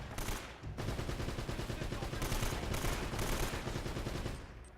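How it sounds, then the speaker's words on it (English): A machine gun turret firing in the action game Uncharted, a dense, loud, sustained stream of rapid automatic shots with a brief pause near the start. "It sounds like somebody's on like a machine gun turret."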